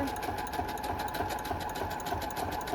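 Steady, fairly quiet machine stitching as a sewing machine runs continuously through fabric journal covers, an even rapid needle chatter with no pauses.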